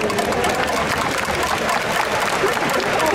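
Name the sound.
audience applause welcoming the ceremonial first pitcher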